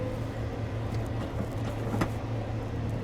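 A combine harvester engine running steadily after a gear shift, a continuous loud low drone with a few brief higher mechanical whines over it, no talk.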